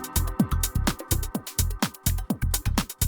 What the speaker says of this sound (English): switch this and just take the low end out of the kick drum